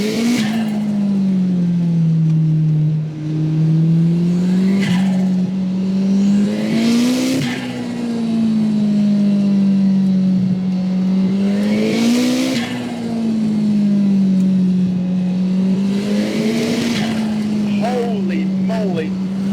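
A 320whp turbocharged Lotus Elise accelerating hard, its engine droning loud and close through repeated rising pulls and gear shifts, with brief tire noise and excited speech from inside the car.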